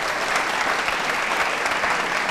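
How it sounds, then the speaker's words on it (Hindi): An audience at an elections quiz show at an institute of technology applauds in a continuous, dense burst of clapping, steady and fairly loud from start to end. "इसके लिए भी ताली बजा सकते हैं आप"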